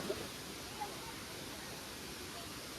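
Steady, broadband rush of falling water at Suruli Falls, a large waterfall in Theni, India, continuous and moderately distant, with no voices over it.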